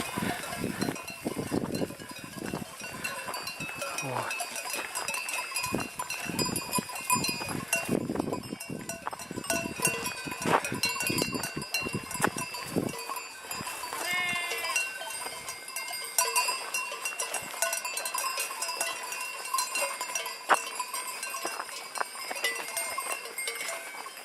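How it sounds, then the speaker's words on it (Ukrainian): Many cowbells clank and jangle without pause as a flock of unshorn sheep moves along the Sokilskyi ridge, with occasional faint bleats mixed into the steady ringing. "не стрижені вівці. От видно, що шерстю обросли, скоро їх будуть стригти"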